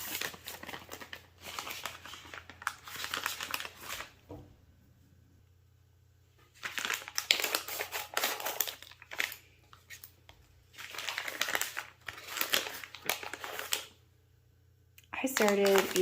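A snack packet being opened and crinkled by hand, loud rustling bursts close up separated by quiet pauses, with a low steady hum underneath.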